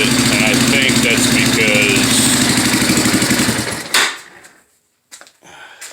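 A Yamaha Warrior 350 ATV engine runs loud and close with a rough, pulsing exhaust through aftermarket slip-on pipes, then cuts off abruptly, followed by a few faint knocks and clicks.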